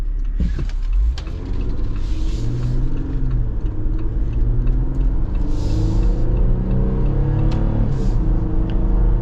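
A 2025 AEV Wrangler JL370 Venture with a V6 engine cruising on the road, heard from inside as a steady low engine drone and road rumble, loud and continuous, with faint cabin noises and no talking.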